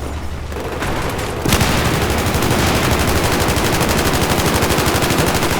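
Rapid, sustained automatic gunfire from a Battlefield 4 multiplayer match in a city battle, loud and dense, a steady rattle of shots that swells after a brief quieter opening and continues without pause.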